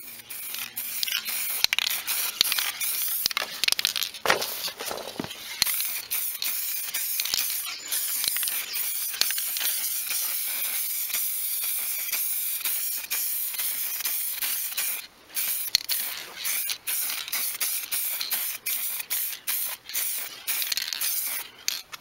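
Silver spray paint applied in light coats to a car part, a loud, close, continuous aerosol hiss lasting most of the time with a few brief pauses between passes.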